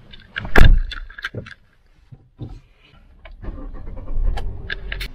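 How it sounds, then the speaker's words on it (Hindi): A car's engine cranks and catches after a few scattered clicks and door-like knocks, then settles into a low, steady idle close by. "हम गाड़ी को स्टार्ट कर देते हैं,"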